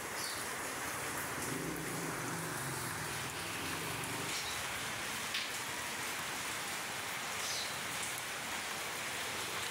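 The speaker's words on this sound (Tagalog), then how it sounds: "Kita nyo naman yung malakas talaga ulan." Heavy rain pours down steadily in a dense, loud wash of drumming noise, with a low rumbling hum in the first few seconds.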